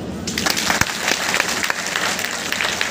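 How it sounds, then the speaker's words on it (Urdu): An audience at a bhajan gathering claps for Bhole Nath, a dense, steady patter of many hands with no talk over it. "ایک بار بھولے ناتھ کا تالی بجاؤ"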